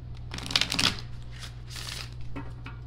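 A few bursts of tarot cards being shuffled and riffled close by, crisp papery flutters over a low steady hum, with a brief tap near the end.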